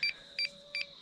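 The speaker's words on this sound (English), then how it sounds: "You'll hear a beeping sound." A DJI Mavic Mini drone beeps while pairing with its controller: three short, evenly spaced double-tone electronic beeps, close and clear over a quiet background.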